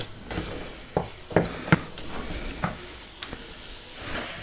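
Flour dumpling dough being cooked off and stirred in a pot, with a run of sharp scraping and knocking strokes over a soft background hiss.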